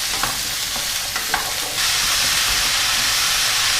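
Zucchini stirred and sautéed in a pan over high heat: a steady broadband sizzle with soft scraping stir strokes early on, the frying hiss swelling louder and denser partway through, close and continuous with no voices.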